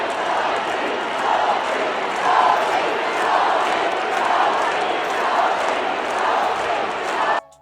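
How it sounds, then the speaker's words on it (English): Crowd packed into Gainbridge Fieldhouse for an Indiana Fever basketball game chants in a loud, rhythmic surge, pulsing steadily throughout before cutting off abruptly at the end. "the Indiana Fever crowd began chanting a single name"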